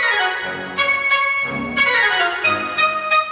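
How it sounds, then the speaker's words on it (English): Short staccato woodwinds play quick repeated notes, then more spaced notes, layered in a dense, loud orchestral texture with bright sustained tones underneath. "I'm doing something similar with the short woodwinds over here."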